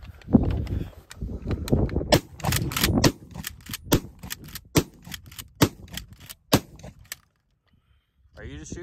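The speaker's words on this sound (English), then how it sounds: "I'm shooting slow because I was holding that one shell" Shotgun shells from a G Force GFP3N pump shotgun firing at an outdoor range, a series of sharp, loud blasts at uneven, fairly slow intervals with people talking quietly between shots, then a short pause before a voice.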